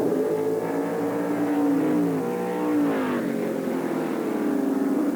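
Formula 5000 race cars, including a 1974-built car, roar past at Ruapuna, a loud continuous engine drone with rising and falling revs as the cars brake and accelerate through a corner.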